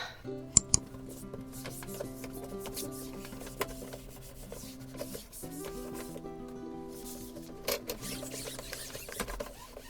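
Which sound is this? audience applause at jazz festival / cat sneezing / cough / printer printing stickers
printer printing stickers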